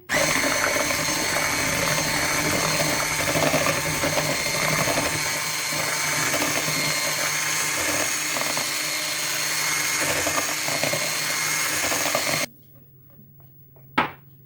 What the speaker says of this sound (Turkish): Yoğurt ve sıvı yağ ekledim. Şimdi tekrardan çırpacağım.